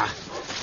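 A bloodhound barks or bays up close, a short harsh vocal burst that fills the moment, with a faint human voice nearby.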